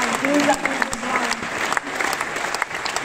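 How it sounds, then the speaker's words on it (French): Loud, sustained applause from a large crowd at an Anne Hidalgo political rally in Aubervilliers, a dense clatter of clapping with a few cheers rising through it, steady from start to finish. "Je suis tellement heureuse de vous voir applaudir si fortement l'Europe et ce projet européen qui est le nôtre"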